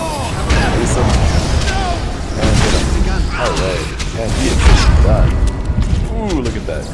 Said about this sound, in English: Ooh, look at that explosion.